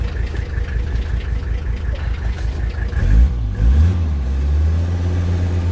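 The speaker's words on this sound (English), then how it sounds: "You can hear that injector clacking." A Mercedes-Benz 300TD W123 diesel engine, not fully warmed up, idles with a rapid, steady injector ticking clatter riding over its low rumble, then briefly revs and settles back to a smoother hum.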